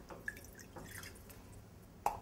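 Cold water drips in a kitchen while gelatin is being hydrated, two or three faint, isolated plinks against a quiet background.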